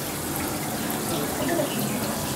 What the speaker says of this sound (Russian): Сразу у входа небольшой водопад с рыбками.